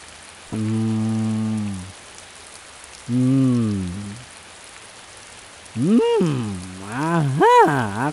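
Steady rain hisses throughout a scene from an animated horror film, overlaid by three long, loud, wavering moaning tones that rise and fall.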